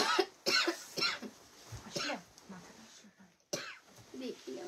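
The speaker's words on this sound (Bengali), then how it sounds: "দেখি আমার কাশি হচ্ছে" A woman coughs several times in short bursts, close and fairly loud, with pauses between fits, indoors at a saree shop.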